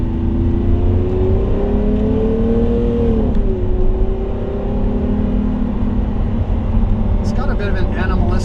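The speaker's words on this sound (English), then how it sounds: "The engine sounds nice. It's very metallic, and we haven't revved it up very high, but sounds, the exhaust tuning's nice." Lamborghini Aventador engine and exhaust revving moderately, a steady metallic drone that swells and dips slightly, with a voice talking over it throughout.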